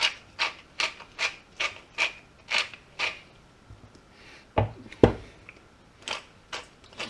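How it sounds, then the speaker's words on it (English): A grinder cracks salt and pepper over fish soup, its quick rasping twists coming close in a rhythmic series of about a dozen turns, then a couple of sharper knocks and a few more grinds. "I'm going to give that a really good grind of salt and pepper."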